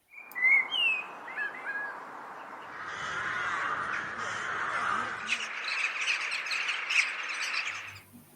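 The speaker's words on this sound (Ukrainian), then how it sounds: "Першими прилітають граки, потім шпаки, жайворонки. Давайте послухаємо, як по-різному вони співають." Spring birds calling, with rooks among them: a few sharp, harsh caws and squawks open the stretch, followed by a steadier chatter of bird calls, moderately close and fairly loud.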